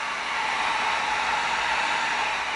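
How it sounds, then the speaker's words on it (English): A heat gun sealing EVA foam gives a steady, close, even blowing hiss that holds without a break and stays alone, with no voices. "Let's get our heat gun out and let's seal this up."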